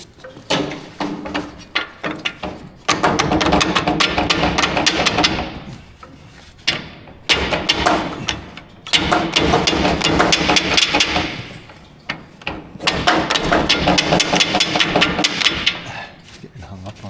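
Rapid, repeated hammer blows ring out in several long bursts with brief pauses between, loud and close, metallic strikes in a tight space while modifying pedals in a 1938 International pickup.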